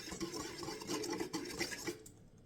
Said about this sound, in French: Ensuite, je vais mélanger un petit peu.